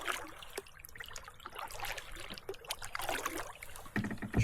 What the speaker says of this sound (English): We're out for the evening paddle.